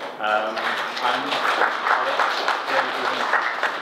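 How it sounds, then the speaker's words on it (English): Audience at a Bitcoin meetup in Beijing applauds a speaker's introduction, a steady dense round of clapping lasting several seconds, with some voices mixed in among the crowd. "So a round of applause for Jelena."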